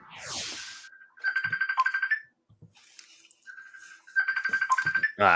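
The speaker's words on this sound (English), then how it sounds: "My phone keeps going on." A mobile phone ringtone plays loudly in two repeated bursts of rapid pulsing tones, separated by brief quieter gaps.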